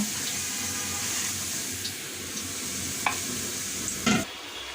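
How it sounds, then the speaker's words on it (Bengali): Marinated meat for biryani sizzles in a pan while being stirred, a steady close frying hiss broken by a few sharp utensil knocks and a louder scrape near the end, with no talking. "মাংসগুলো ঢেলে দিয়েছি, এখন খুব ভালো করে নাড়াচাড়া করে মাংসটা কষিয়ে নিব।"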